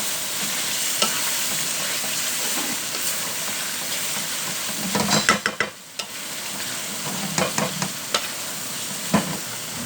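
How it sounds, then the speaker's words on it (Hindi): Chicken korma gravy fries in a pot with a steady close sizzle and hiss, broken by bursts of scraping as a spoon stirs through it. "अब इसको हम अच्छे तरीके से इसमें भूनेंगे।"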